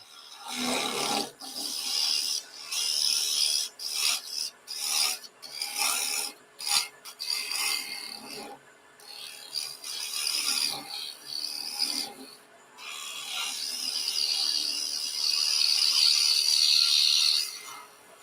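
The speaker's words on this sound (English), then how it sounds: "I'll flatten this a little bit, and I'll do that with maybe a better scraper" Wood lathe scraper flattening the foot of a turned bowl, giving bursts of raspy scraping and rubbing broken by brief pauses, and ending in a longer, steadier scrape near the end.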